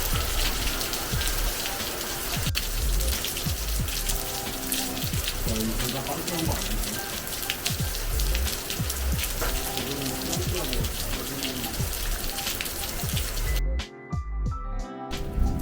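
Heavy rain pours down in a dense, loud, steady wash during a cycling trip, with a brief dip near the end before the downpour resumes.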